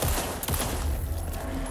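A quick burst of gunfire from the horror video game Alan Wake 2, several sharp shots close together over a rumbling background.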